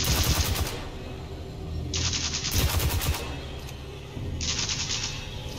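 Bursts of automatic weapon fire in the video game Destiny 2, three loud sustained volleys separated by brief pauses, close and dominant with no talking.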